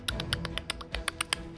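Rapid clicking picked up by a microphone, about a dozen sharp close taps in an uneven quick rhythm, each crisp and bright, with no talking over them.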